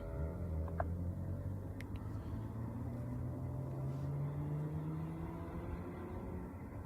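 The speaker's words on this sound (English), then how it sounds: "You hear someone flooring it as well." A car accelerating hard nearby, engine roaring with a steady low rising tone that runs loud through the whole stretch, with distant rumbling of a war zone behind it.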